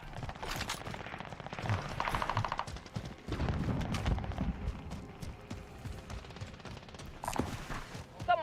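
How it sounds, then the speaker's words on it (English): Bursts of automatic fire from a grey BP gun in a shooter game come in fast repeated volleys, punctuated by footsteps and game effects, with a few quieter gaps between strings of shots. "that grey BP has some serious recoil, doesn't it?"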